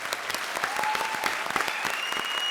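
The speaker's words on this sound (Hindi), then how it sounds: "जोरदार मेरी फिल्म के लिए ताली।" Studio audience applause on a comedy show stage, a dense steady patter of many hands clapping at moderate loudness throughout.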